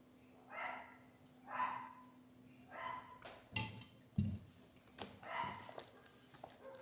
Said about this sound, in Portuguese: Começou a saga da cachorrada, fiquem tranquilos.